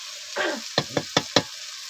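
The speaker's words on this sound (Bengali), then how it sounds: "এই যে মাছ ভাজা, মাছ থেকে অনেকটা তেল বেরিয়েছে।" Fish frying in hot oil in a pan at a night camp near the Sundarbans forest, a faint sizzle followed by four sharp, evenly spaced knocks of a utensil against the pan.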